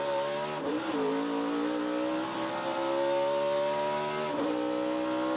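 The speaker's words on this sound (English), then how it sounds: "Listen how low the RPM get there." A NASCAR race car engine in 2023 Pit Boss 250 practice and qualifying howls loud and close, its revs sagging sharply on corner entry twice before climbing again.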